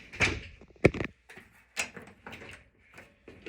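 A sliding RV shower door's travel lock on a 2021 Cedar Creek 377BH fifth-wheel snaps into place, giving a couple of sharp, close plastic clicks and knocks with quieter handling rattles between them.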